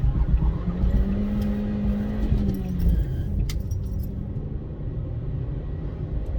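A car engine revs hard as the car pulls out of a junction, a rising engine note under a steady road rumble, heard from inside the car with keys jangling and some rattles.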